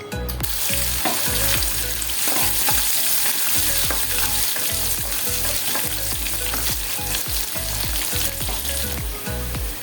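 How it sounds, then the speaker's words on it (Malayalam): Mustard seeds splutter and pop in hot oil for a green gram curry, a dense, loud crackling sizzle with rapid sharp bursts that keeps going steadily throughout, with no talking. "നമുക്കിതിലേക്ക് കടുക് പൊട്ടിച്ചു കൊടുക്കാം."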